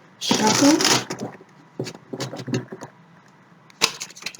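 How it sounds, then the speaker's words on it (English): Tarot cards are briefly riffled and shuffled close up, a dense papery burst at the start, followed by softer scattered card handling and taps, with speech heard around it. "Give these a quick shuffle."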